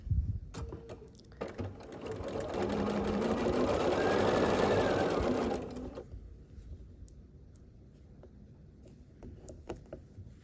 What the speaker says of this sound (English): To assemble this, we just turn it sideways and sew these triangles together